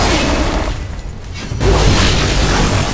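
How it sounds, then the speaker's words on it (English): A loud burst of explosive rumble fades briefly, then a second deep boom hits and lingers in a dense, roaring wash, in the video game Shadow Warrior. "More explosions."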